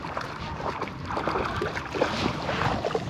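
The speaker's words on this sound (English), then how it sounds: "Wind is starting to pick up like we thought it would." Wind gusting steadily across a lake during winter catfishing, a continuous broadband rush with buffeting noise on the microphone, no voices.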